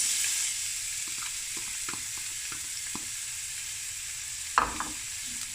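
Two onions frying in a pan for a lamb and coconut milk curry give a steady, close hiss of sizzling oil, with light rhythmic clicks of stirring and one louder clatter near the end.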